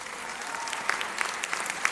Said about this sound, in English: I ask that you join me in thanking a very important group of people with a round of applause